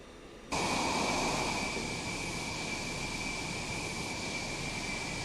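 Steady, loud jet engine roar from a taxiing fighter aircraft in the Falcon BMS flight simulator, starting abruptly and holding a constant whine and rumble throughout.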